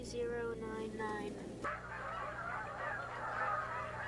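Canada geese at a wintering wildlife refuge honking in a flock, several overlapping nasal calls up close over a steady background of more distant birds.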